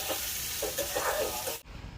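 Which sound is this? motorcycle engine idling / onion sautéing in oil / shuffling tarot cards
onion sautéing in oil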